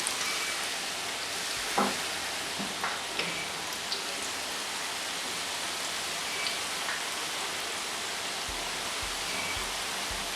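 Dough pastries for honeyed Moroccan grawch frying in a deep pan of oil: a dense, steady sizzle and crackle continues throughout, close and loud, with a few small pops and knocks.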